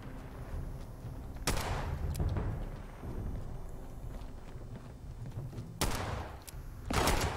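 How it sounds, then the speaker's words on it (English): Gunfire in the Fallout 76 video game: several sharp shots crack out loudly at intervals, with a heavier burst near the end over a steady game ambience. "Oh, jeez, who's shooting me back here?"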